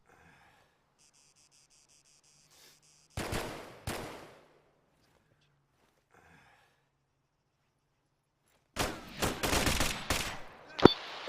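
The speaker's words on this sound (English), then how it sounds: "there is a guy in there shooting you through the wall" Gunfire crackles in the military shooter ArmA III. Two short bursts come early and a heavier volley of close, loud shots arrives near the end, with a steady insect-like chirp hanging in the quiet stretches between.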